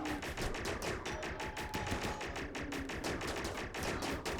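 In Rimworld, colonists fire at mech vats in a steady stream of gunfire, rapid repeated shots that keep up a constant, fairly loud rattle for the whole stretch with no talk.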